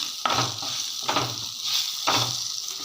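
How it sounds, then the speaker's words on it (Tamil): Mint leaves frying in oil and being stirred, a steady close sizzle broken three times by the scrape of a spoon turning the leaves in the pan, with no talk. "இந்த எண்ணெயில் நல்லா புதினா வதங்கி வரட்டும்"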